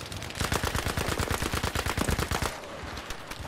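Rapid automatic weapon fire in Battlefield V, a fast burst of evenly spaced sharp shots lasting about two and a half seconds, close and loud, then trailing off into quieter background.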